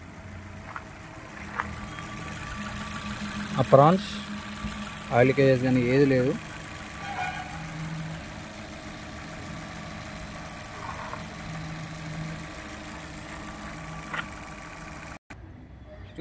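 A 2016 Maruti Suzuki Baleno Delta petrol engine idles with a steady, low, even hum through the whole stretch, while someone talks nearby over it.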